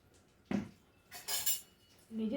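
Cooked rice being served onto a plate, a few sharp clinks and scrapes of a serving spoon against dishes and cutlery in a quiet kitchen, in short separate bursts.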